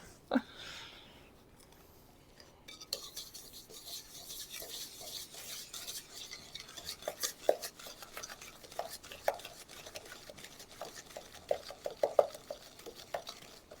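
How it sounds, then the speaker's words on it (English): A spoon stirs apple crumble mixture with vanilla essence in a bowl, giving soft repeated scraping and clinking strokes, close and fairly quiet, in an irregular rhythm. "So I'm giving that a mix, and you can see that it's creamed."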